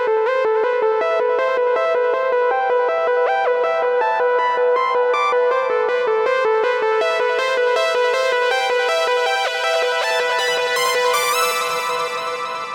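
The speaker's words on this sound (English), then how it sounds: "turning up the total harmonic distortion on that dotted eighth, added some cool character to it." Dotted-eighth delay from the Clarity Delay plugin with harmonic distortion on a sustained melodic synth or guitar line, repeats stacking into a dense, gritty wash of echoes that stays loud and continuous throughout.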